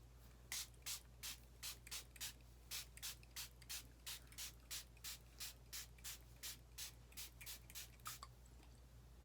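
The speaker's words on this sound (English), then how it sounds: "I'm gonna spray it with just some water." A hand spray bottle misting water onto damp hair during a vintage wet set, with about twenty evenly spaced short hissing squirts in a steady rhythm, close and fairly quiet.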